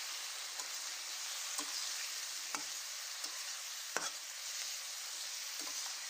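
Yardlong beans fry with dried chili, salt and turmeric in a pan, giving a quiet, even sizzle with a scattering of sharp pops and spatula scrapes at irregular intervals, no voices.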